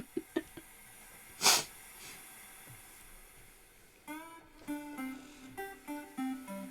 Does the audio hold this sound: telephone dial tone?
no